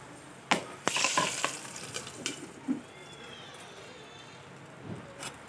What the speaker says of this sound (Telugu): ఇప్పుడు వచ్చేసి ఈ తిరువాతని పప్పులోకి వేసేద్దాం.